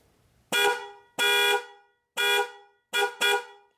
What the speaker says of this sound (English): if the horns are good, the horn should work.